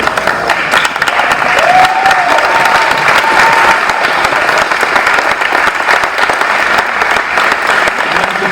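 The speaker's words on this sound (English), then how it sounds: "if everybody could just stand up and give her one last round of applause" A crowd rises for a standing ovation at a school athletics awards ceremony, producing loud, dense, sustained applause that fills the whole stretch without letting up.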